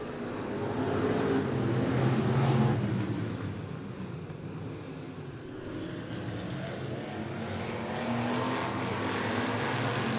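Race cars roar off the green flag at Sunset Speedway, a loud, continuous broadband engine drone with swelling and fading passes, no talk over it.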